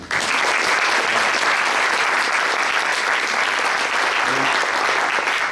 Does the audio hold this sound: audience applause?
yes